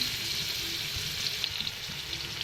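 Chopped garlic and onion fry in hot oil, a steady close sizzle with soft bubbling and a few low knocks from stirring, with no talking.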